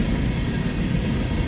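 The rear EMD locomotive of a CN freight train at Ladysmith, Wisconsin throttles up in a steady, loud, dense diesel rumble that carries on throughout, with no voices.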